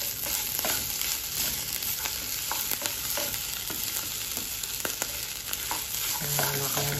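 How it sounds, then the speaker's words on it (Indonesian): Food stirred in a frying pan over a steady sizzle, with repeated spatula scrapes and taps close by and no voices. "Tinggal diaduk-aduk aja"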